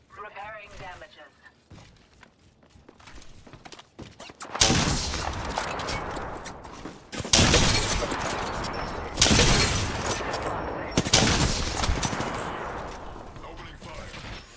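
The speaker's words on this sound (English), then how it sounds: "Opening fire." Bursts of automatic gunfire from Apex Legends crack out in loud, dense volleys, several sustained sprays separated by brief gaps, after quieter game chatter and voice lines at the start.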